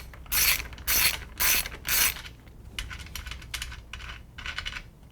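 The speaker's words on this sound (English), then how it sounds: "using the 17mm wrench or socket, you're going to remove the right side rear axle nut" Wrench clicking and ratcheting on the right-side rear axle nut of a STACYC 18eDRIVE or 20eDRIVE electric balance bike, four loud close metallic bursts followed by quieter, quicker ratchet clicks.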